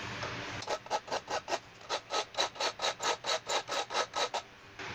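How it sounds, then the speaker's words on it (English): A chainsaw file rasps a slight indentation into a workpiece in a steady run of about fourteen even back-and-forth strokes, close and fairly quiet, with no talk. "take a chainsaw file and file in a slight indentation"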